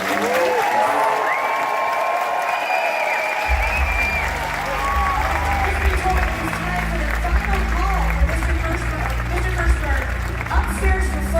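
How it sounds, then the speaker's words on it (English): Sustained audience applause and cheering fill a Comic Con panel hall in Wales, with crowd noise and scattered voices under the clapping throughout. "Please give a round of applause to the legendary Lawrence Fishburne."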